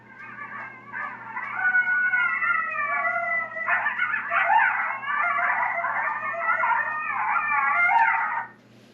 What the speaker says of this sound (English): coyote locator,